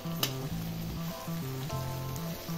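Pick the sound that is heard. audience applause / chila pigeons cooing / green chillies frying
green chillies frying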